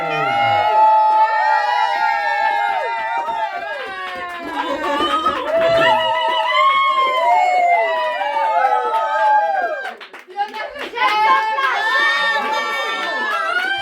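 Live audience cheering and shouting with excited voices and whoops, a lively crowd roar running almost continuously, dipping briefly before swelling again near the end.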